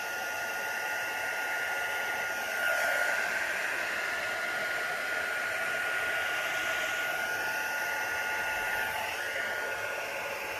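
Blower pushing alcohol inks across resin coasters, a continuous close whooshing air noise that swells slightly as it moves, running the whole time without talk.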